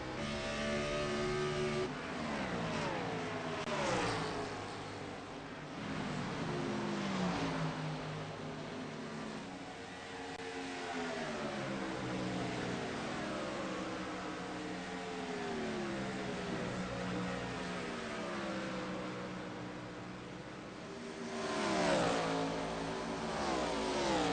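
Stock cars race in the Coca Cola 600 video game, with several engines roaring and revving steadily, pitches rising and falling as cars pass, loud and continuous without talk.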